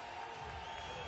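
Octagon crowd reacting to fighter Claudio Puelles, a faint, steady wash of distant cheering and applause filling the arena.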